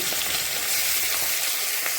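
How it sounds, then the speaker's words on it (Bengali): Catla fish with roe frying fiercely in hot oil, the roe making the oil spatter: a dense, unbroken, close-up sizzle with scattered crackles and pops throughout. "ভীষণ ফুটছে, মাছের ডিমগুলো না তেলের উপর পড়ছে আর সেটা গায়ে পুরো ছিটে ছিটে আসছে।"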